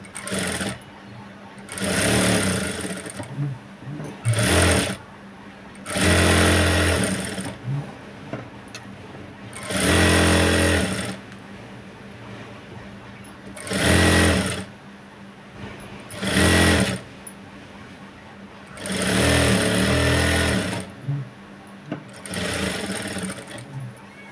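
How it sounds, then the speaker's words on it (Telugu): Sewing machine with a normal presser foot stitching thread piping onto a boat-neck blouse, running in repeated loud bursts separated by short pauses, with brief speech between runs. "ఇలా క్లాత్ని ఇలా అనుకుని స్టిచ్ అనేది వేసుకోవాలి"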